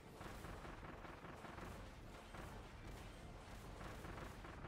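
Rapid, overlapping bomb explosions from homing bombs in Kirby and the Forgotten Land, a dense and steady barrage of booms and pops with no pauses, moderately loud throughout.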